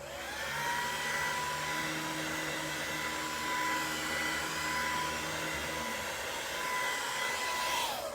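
A hair dryer blows over hair during styling, a steady loud whirring rush of air that holds constant for about eight seconds close to the listener, with no talking.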